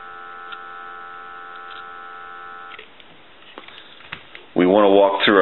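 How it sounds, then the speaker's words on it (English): A steady dial tone from a Kellogg or Western Electric 302 rotary telephone under repair hums for a few seconds, then cuts off into faint clicks before a voice begins talking. "Give you some dial tone."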